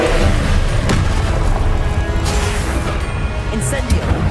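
Confringo blasting spells from Hogwarts Legacy go off in a dense, continuous barrage of booming impacts and crackles, loud and close, with a voice heard among the blasts.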